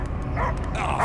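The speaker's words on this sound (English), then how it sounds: "I hear only barking." The dog Cosmo in the Guardians of the Galaxy video game barks in a short burst of sharp yapping, close and fairly loud over low game ambience.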